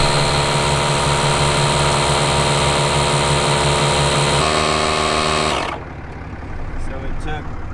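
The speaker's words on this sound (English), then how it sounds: "Using this DeWalt portable air compressor." DeWalt lithium-ion portable air compressor running at close range with a steady, pulsing motor drone that shifts pitch partway through, then cuts off abruptly and leaves faint background noise.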